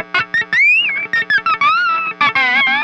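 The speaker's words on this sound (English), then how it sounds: "You can put it on the strings and move it around and acts much like a slide does." Distorted electric guitar strings are touched and slid with a removed whammy bar, producing short choppy bursts and gliding, wavering pitch bends, loud and close with no talking.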